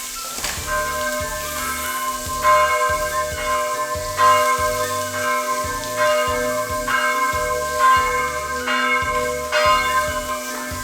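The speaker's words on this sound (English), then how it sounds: "can you hear the church bells?" Church bells ring steadily from a church right beside a cottage in a small French village, with repeated rhythmic strokes and sustained ringing tones, fairly distant and continuous throughout with no talking.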